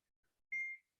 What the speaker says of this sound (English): So sorry about the beeping